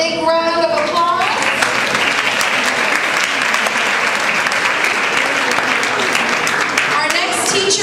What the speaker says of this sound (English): Let's give Livan a big round of applause